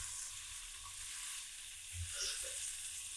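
Onion and tomato sautéing in a pan over mustard seeds for a tomato chutney: a faint, soft, continuous sizzle with a brief low stir or bump near the end, quiet and close.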